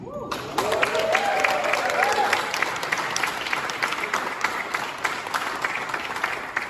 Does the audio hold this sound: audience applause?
yes